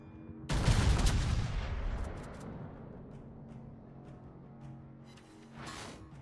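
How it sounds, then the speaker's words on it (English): A naval gun salvo fires in World of Warships, one loud booming blast with a long rumbling decay, followed by a second softer burst near the end; no voices. "I'm shooting the next salvo."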